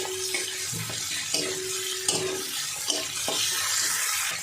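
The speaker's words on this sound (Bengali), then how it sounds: "সবগুলো চিংড়ি মাছ দিয়ে দিয়েছি, একটু ভেজে নেব সামান্য" Prawns fry briefly in a pan for a vegetable dish, giving a steady low sizzle with several sharp clinks and scrapes of stirring at intervals, and no talking.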